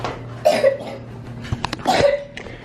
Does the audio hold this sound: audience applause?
no